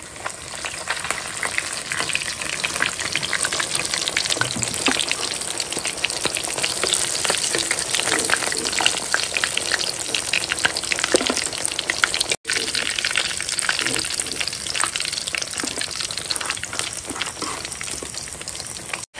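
A batch of hilsa fish fries in hot oil, giving a steady, close, hissing sizzle with crackling pops. It continues without talk and has one short break.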